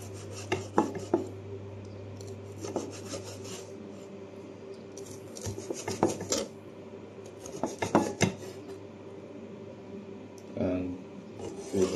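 A kitchen knife cuts ingredients for fried rice on a board, with close rasping strokes and scraping clusters coming in uneven bursts over a steady low hum.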